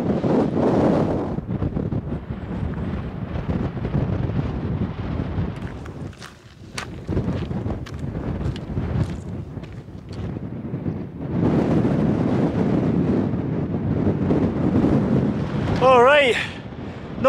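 Strong wind buffets the microphone on an exposed hike up Ben Rinnes, a loud, continuous roaring gust that rises and falls, easing briefly midway before surging again, with a voice talking over it.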